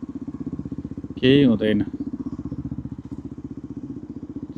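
Motorcycle engine chugging steadily while riding past a long line of cars stuck in a traffic jam in Fukuoka, Japan; the rider briefly speaks over the close, continuous engine note.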